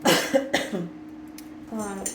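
A few short, harsh coughs near the start, followed by a quieter stretch with a low hum and a faint voice toward the end.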